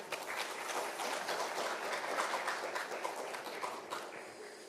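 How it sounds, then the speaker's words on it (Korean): Audience at a Korean peninsula peace symposium applauding to welcome the unification minister, a continuous, dense patter of many hands, evenly loud from start to finish. "다시 한번 김현철 장관님 큰 박수로 맞아주시기 바랍니다"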